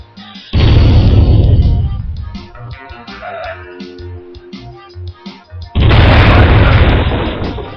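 Two loud booming explosions in the video game Taz: Wanted, each with a long roaring decay, separated by a few seconds of quieter game sounds and small pops.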